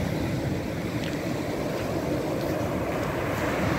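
Rough, cold Sea of Okhotsk waves churn around a fishing boat, a steady, dense roar of water and wind noise filling the whole stretch without pause.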